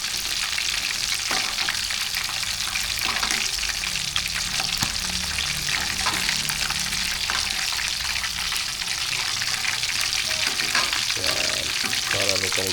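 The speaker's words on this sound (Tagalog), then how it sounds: "Kailangan to lubog na lubog sa mantika eh." Chicken pieces deep frying fully submerged in hot oil, a loud, steady, dense sizzle that runs without a break at close range, with occasional clinks and stirring sounds and no talk.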